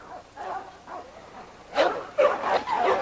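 A pup named Frankie, a male dog from a breeding litter in a yard, lets out a string of short, high yips and barks, several in quick succession, fairly close and getting louder toward the end.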